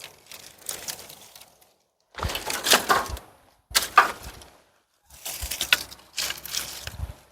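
Dry sticks snap in several loud, crackling bursts separated by short pauses, close up and with no talking.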